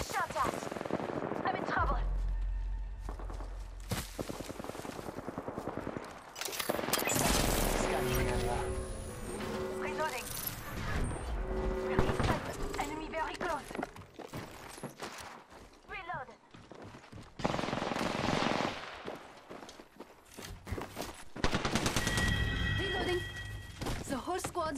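Dense bursts of automatic and single-shot gunfire from Apex Legends come in repeated volleys with crashes and impacts, layered over game effects and talk throughout.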